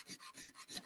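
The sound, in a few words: sanding a piano hammer shank flush with sandpaper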